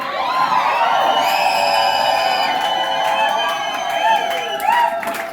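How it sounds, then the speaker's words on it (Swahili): Worshippers in a church cheer and ululate for Jesus after a sermon. Loud, sustained high trilling ululations ring over a cheering crowd, close and continuous. "Shangwe na vigelegele kwa Yesu"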